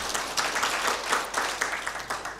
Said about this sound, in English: So that one you can clap for yourselves.